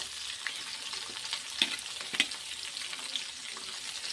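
Green chillies and garlic frying in hot oil in a pan while being stirred, a soft continuous sizzle broken by a few sharp scraping clinks of the spoon against the pan, fairly quiet and close.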